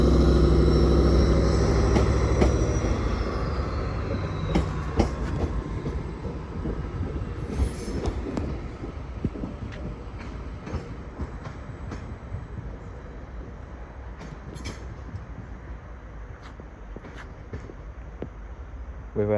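Greater Anglia class 755 unit 755-329 pulls out of Ipswich on the Great Eastern Main Line, a loud engine and rail rumble at first that eases as the train moves off, with wheel and track noise continuing and sharp clanks scattered through.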